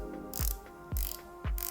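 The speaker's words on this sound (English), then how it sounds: "the ceramic bezel is free-flowing while still being precise" Ceramic watch bezel on a Direnzo DRZ 03 v2 turned in three short bursts, each a quick run of crisp, close clicks separated by brief pauses.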